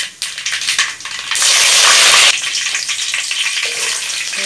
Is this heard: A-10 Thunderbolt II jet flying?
no